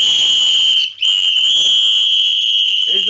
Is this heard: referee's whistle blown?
yes